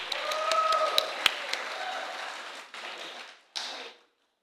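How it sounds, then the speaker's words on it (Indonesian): An audience at a church hymn festival claps for a prize-giving with a dense patter of hand claps that drops off, picks up in a short second burst and then stops, leaving silence. "Boleh tepuk tangannya teman-teman?"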